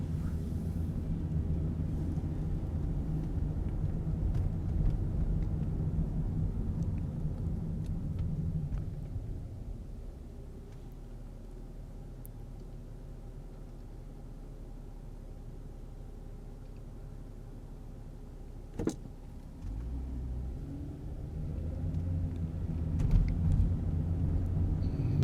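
A car drives slowly along snow-covered streets in Norwich, Connecticut, giving a steady low engine and road rumble that eases and softens partway through, then swells again near the end.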